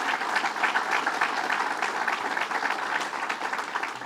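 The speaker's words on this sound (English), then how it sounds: "Let's give him a big round of applause." A room full of people clap for an official at a New York bill signing by Governor Cuomo, a steady, even round of applause heard at moderate distance with no talk over it.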